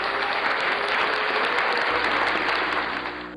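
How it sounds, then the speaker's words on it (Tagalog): Applause sound effect: a dense, loud burst of crowd clapping that holds steady for about three seconds, then tapers off, with no talking. "Palakpak naman dyan."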